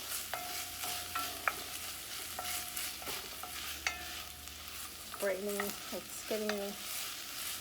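Onions for pumpkin soup sizzle gently in a pot while a spoon stirs them with intermittent scraping and clinking, the frying steady and fairly quiet underneath.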